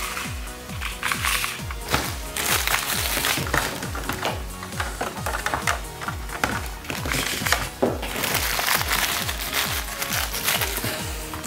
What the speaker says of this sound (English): we just load up the mag with rounds.